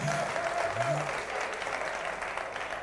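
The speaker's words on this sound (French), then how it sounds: "Merci d'applaudir pour vous-même." Audience applause at a talk on youth and women's entrepreneurship in Kasaï-Central, a steady mass of clapping with faint voices underneath.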